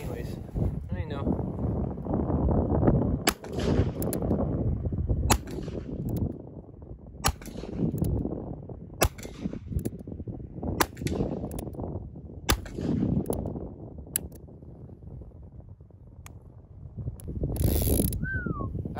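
A Ruger .22 long rifle fires repeatedly at a brake drum outdoors, sharp cracks spaced every second or two over wind noise, with a person talking between shots.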